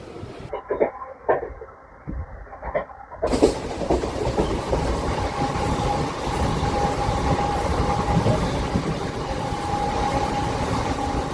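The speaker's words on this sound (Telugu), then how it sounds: "ప్లాట్ఫామ్ మీదకి వెళ్తుంది మన ట్రైను" A MEMU passenger train rolls into a station platform where cement work is under way, its steady rumble and rail clatter building loud and continuous after a quieter, patchy opening.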